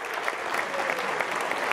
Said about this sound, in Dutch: Applaus, dames en heren.